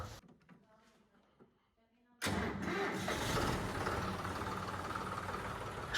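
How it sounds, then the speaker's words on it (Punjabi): A John Deere tractor engine cranks and fires up on a cold day, quiet rattles giving way to a sudden loud, steady diesel roar that continues close by. "ਠੰਡ ਕਰਕੇ ਪਹਿਲਾਂ ਟਰੈਕਟਰ ਨੂੰ ਆਪਾਂ ਸਟਾਰਟ ਕਰ ਦਿੰਨੇ ਆ"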